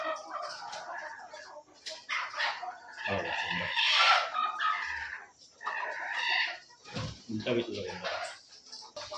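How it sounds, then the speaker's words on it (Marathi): A bearded desi village rooster crows in bursts, loud and close, with farm voices talking around the calls. "दाढीवाला कोंबडा बघा कसं प्युअर गावठी बघा आवाज"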